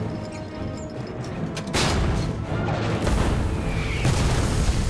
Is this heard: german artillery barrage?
yes